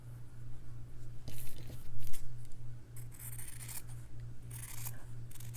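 Scissors snip through strips of fabric cut to match a lace ribbon's width, a few close crisp cuts and rustling under a steady low hum.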